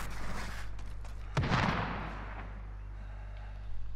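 Gunfire in Call of Duty: Modern Warfare, a single sharp burst of shots at mid-distance over a constant low game hum, then fading back to quiet ambience.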